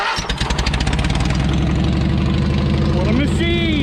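A log-cutting machine's engine is started nearby: a rapid cranking rattle catches and settles into a loud, steady idle, with a brief rising whine near the end.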